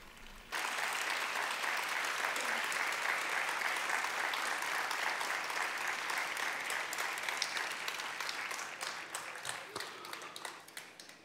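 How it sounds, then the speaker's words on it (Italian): A large church audience gives loud, sustained applause, starting abruptly and holding strong before gradually thinning into scattered claps near the end. "Adesso ho capito quanti siete per la forza dell'applauso"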